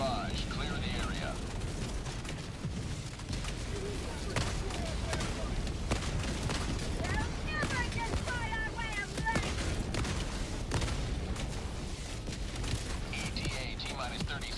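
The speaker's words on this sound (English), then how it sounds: "Firing orbital barrage. Clear the area." Orbital barrage bombardment in Helldivers 2 rumbles and crackles steadily, with repeated blasts and scattered bangs in a thick, continuous roar while people talk over it.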